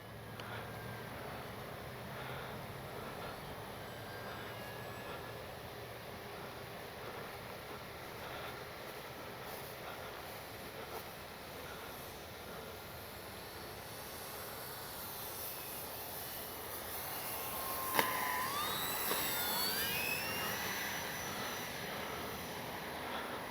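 An X-Fly Spitfire RC plane carries on a steady, fairly faint motor drone as it flies through a touch-and-go. The pitch shifts as it passes and the sound lifts briefly near the end, with open-air background noise.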